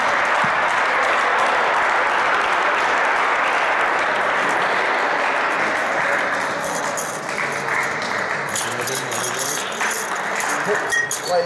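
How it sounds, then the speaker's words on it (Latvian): An indoor crowd at a spring basketball tournament gives sustained applause for the third-place team, a dense steady clapping that runs throughout, with an announcer's voice heard over it. "Komanda Kopturis A, aplausus."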